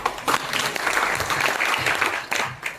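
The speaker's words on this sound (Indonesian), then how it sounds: "Tepuk tangannya buat Tuhan." A church congregation claps steadily and loudly during a thanksgiving service, a dense sustained applause with a few brief voices mixed in.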